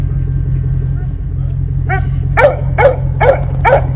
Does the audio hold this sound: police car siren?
no